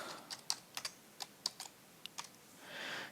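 A password is typed on a computer keyboard: about a dozen close, crisp keystrokes in an uneven rhythm, followed by a short soft rush of noise at the end, with no talking.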